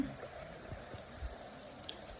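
A small clear stream flows in Belmontas, a wooded park in Vilnius, with a soft, quiet, steady trickle and gurgle heard up close and alone.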